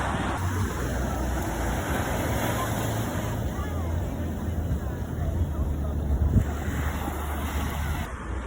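Continuous roar of sea surf in Aurora, Philippines, mixed with heavy wind buffeting the microphone, loud and unbroken throughout.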